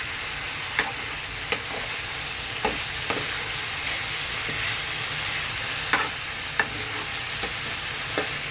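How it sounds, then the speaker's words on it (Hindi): Shredded cabbage and potatoes frying in a pan while being mixed, a steady sizzle punctuated by sharp intermittent clacks of a spoon scraping and tapping the pan, close and without speech. "हमने सारा डाल दिया है यहाँ पर, बंद गोभी और आलू। हम इसको मिक्स कर लेते हैं"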